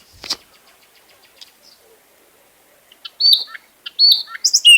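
Bird chirps and tweets ring out in quick bursts, sparse at first after a sharp click, then denser high-pitched calls near the end.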